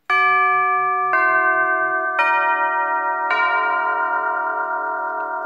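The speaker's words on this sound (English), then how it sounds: "So that's the Westminster chime bits." Tubular bells of a longcase clock play the Westminster chime, four struck notes about a second apart, each loud and close with long ringing sustain that overlaps into the next, alone with no talk.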